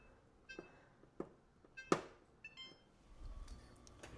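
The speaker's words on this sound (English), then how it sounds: "Timer." Oven timer beeping in a home kitchen while clay garden markers bake, a few sharp separate beeps over quiet room noise, fairly faint.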